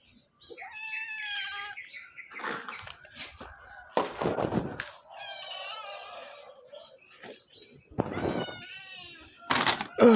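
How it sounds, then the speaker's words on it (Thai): A cat meows repeatedly in several separate, close, clear calls with quiet gaps between them, while a person speaks Thai briefly and occasional thuds sound in the background. "ให้ข้าวแมวยามเช้า"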